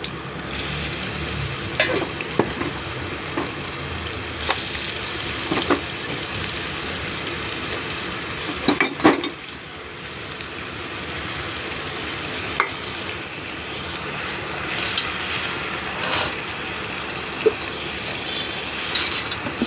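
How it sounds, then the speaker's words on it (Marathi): Finely chopped onion fries in hot oil, a steady dense sizzle and crackle heard up close throughout, with scattered taps and scrapes of a spoon stirring in the pan. "तेल तापलं की त्याच्यात बारीक कापलेला कांदा टाकूया"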